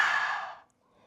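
A long, exaggerated exhale pushed out through the mouth during a yoga breathing sequence, loud and breathy at first and then fading to quiet after about half a second.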